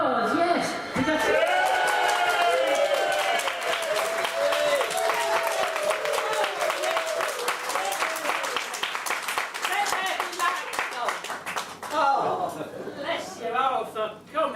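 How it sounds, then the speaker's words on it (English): A live show audience erupts in a big round of applause with whooping and foot stamping, a dense sustained roar of clapping and cheers that holds loud for most of the stretch before thinning near the end. "a big whooping, stamping the feet, and a big round of applause"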